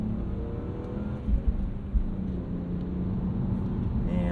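A high-mileage BMW E46 323i manual sedan accelerates flat out, heard from inside as a steady, loud low engine drone and road rumble that builds gradually, with a couple of thumps.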